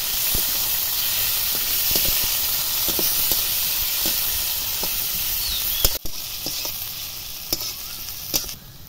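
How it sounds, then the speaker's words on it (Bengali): Dried chilies and chopped onions fry in a pan with a steady, close sizzle and hiss, broken by occasional stirring scrapes and a few sharp clicks toward the end. "শুকনো লঙ্কা, কুচানো পেঁয়াজ, লাল লাল করে ভেজে নেব।"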